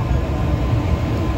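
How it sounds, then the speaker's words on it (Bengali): Another train rushes past outside an ICF local train, a loud continuous rumble of wheels and carriages. "বাইরে একটা ট্রেন দেখতে পেলে না, যেটা ছুটে গেল"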